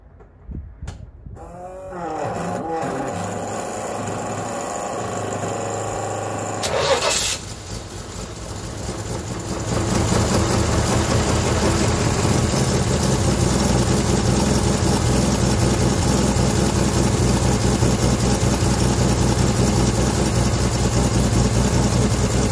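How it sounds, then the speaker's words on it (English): A car with a leaky electric fuel pump: after the ignition is switched on a pump hums, a short burst of cranking follows, and the engine catches into a loud, steady idle that runs on, close and without talking. "let's turn the ignition on and see how we get on"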